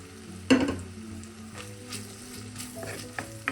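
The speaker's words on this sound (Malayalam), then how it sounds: "അതൊന്ന് ചെറുതായൊന്ന് വഴലട്ടെ. അപ്പോൾ നമുക്ക് ഉള്ളിയും കൂടി ചേർത്ത് കൊടുക്കാം." Chopped onions sautéing in hot oil in a pan while cooking a Kerala-style kingfish curry, giving a steady close sizzle with a few brief stirring clatters and scrapes, no talking.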